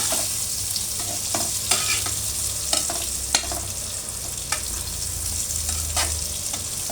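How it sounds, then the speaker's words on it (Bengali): Eggplant slices fry in a large frying pan for a Bengali pickle, a steady close sizzle broken by a few sharp stirring clinks and scrapes. "এই তো বেগুনগুলো ভাজা হচ্ছে, আর একটু পরে আমি নামিয়ে নেব।"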